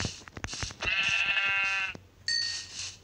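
A Minecraft sheep lets out one long, close, wavering bleat, followed by a shorter second bleat a moment later.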